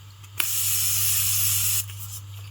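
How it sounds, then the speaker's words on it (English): Travel-size makeup remover spray bursts out in one steady, close hiss lasting under two seconds, with a faint click just before it and a constant low hum underneath. "And I'm going to spray this."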